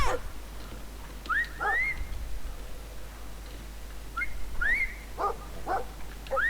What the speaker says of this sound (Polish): Ale ten pies mnie nie zauważył.